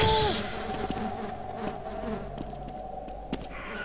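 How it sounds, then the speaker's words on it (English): A swarm of bees buzzes in Half-Life, a continuous droning hum with scattered clicks and thuds from gameplay, moderately loud and without speech. "Not the bees, not the bees."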